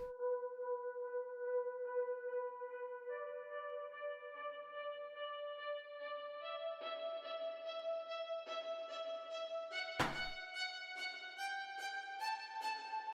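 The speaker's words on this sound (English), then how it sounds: "added an automation clip with the low pass filter on the violin." A synthesized violin melody in a hip-hop production, starting dull and muffled as a low-pass filter sweep gradually opens, becoming brighter, with a sharp percussive hit partway through; quiet and steady with no voices.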